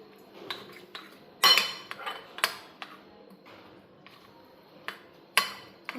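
A spoon mixes sandwich filling with homemade mayonnaise in a bowl, producing irregular clinks and taps against the bowl, several louder strikes standing out over quiet scraping.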